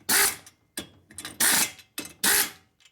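Heavy duty zip gun snugging cylinder bolts on a 1958 Harley panhead 74ci top end, four short sharp bursts in quick succession with brief clicks between them.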